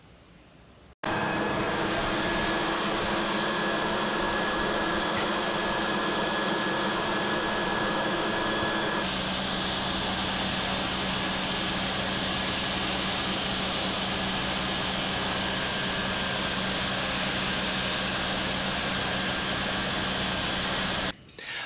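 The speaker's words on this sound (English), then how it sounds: "some of the progress I made on the sandblasting so far" Sandblasting a Firebird car body produces a loud, continuous hissing blast that starts abruptly, shifts in tone partway through, and cuts off near the end with no talking.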